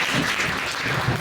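An audience claps for a franchise owner at the opening of a new children's learning centre, a short burst of continuous hand clapping in a room.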